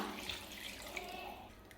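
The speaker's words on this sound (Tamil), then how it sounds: "மட்டன் வேகிறதுக்கு தேவையான அளவுக்கு தண்ணி சேர்த்துக்கலாம்" Water poured into a pan of mutton cooking with masala for a garlic mutton fry, a soft, steady wash of trickling and splashing held low and even for a couple of seconds, with no voices.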